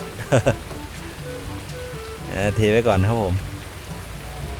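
Steady rain falls over a muddy work site in Farming Simulator 19, a continuous hiss underneath someone talking, with a couple of brief knocks early on.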